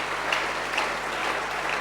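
A church congregation claps and cheers steadily during a Sunday worship service, a dense continuous wash of applause from a large crowd at even loudness throughout.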